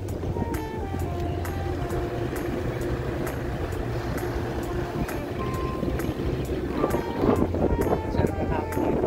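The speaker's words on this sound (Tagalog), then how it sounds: "Sarap na hangin dito." Steady wind rushing across a boat ride near Calapan, with a low engine drone running throughout and voices talking now and then over the blustery noise.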